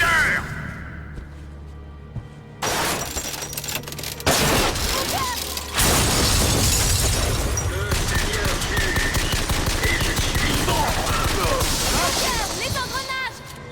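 Dense automatic gunfire and booming shots from a BioShock Infinite firefight, loud and continuous bursts with whooshes and mechanical clatter, mixed with game voices speaking.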